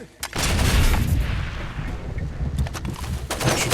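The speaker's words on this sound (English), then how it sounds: "But we do have the good old explosive crossbow." An explosive crossbow bolt detonates in Far Cry 2, a loud booming blast followed by a long rumbling, crackling decay, with a few sharper bangs near the end.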